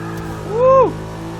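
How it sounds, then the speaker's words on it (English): A modified car with loud aftermarket intake and exhaust gives one short, loud rev, the engine note rising quickly then dropping back to idle. "Got that intake and exhaust making all kinds of noise, but just not going anywhere"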